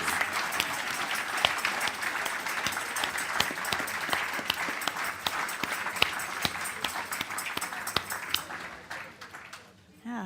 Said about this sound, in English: Let's give a final round of applause for all the amazing panelists.